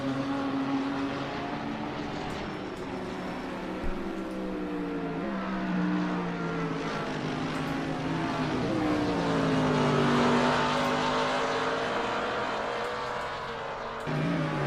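Mercedes AMG GT3 race cars battling side by side at Silverstone in Assetto Corsa, their engines holding a continuous loud whine that rises and falls in pitch as they accelerate and lift through the corners.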